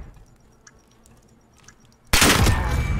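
A Desert Eagle pistol fires a single loud, sharp shot in a Call of Duty Search and Destroy match, bursting abruptly after a quiet stretch of faint game sounds and ringing on with dense noise.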